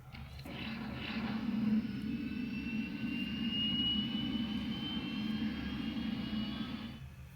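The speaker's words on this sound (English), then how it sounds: "That is the engine starting." A 2010 Hess toy jet plane plays its electronic engine-start sound, a steady whining jet roar with a rising tone that holds loud and close for several seconds, then cuts off.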